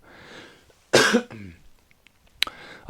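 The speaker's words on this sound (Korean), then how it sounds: "죄송합니다. 자꾸 이렇게 기침을 해가지고요." A man coughs loudly and close, a harsh burst followed by a shorter rasping one, then a couple more sharp coughs after a short quiet gap.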